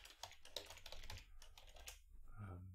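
Rapid typing on a computer keyboard while writing C++ code: a dense, close run of key clicks that thins out toward the end over a low background hum.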